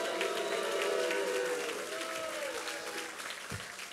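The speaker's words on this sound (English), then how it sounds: "Give Lou a round of applause." A political get-out-the-vote rally crowd claps and cheers for a few seconds, fairly distant and thinning toward the end, with a brief voice and some background murmur mixed in.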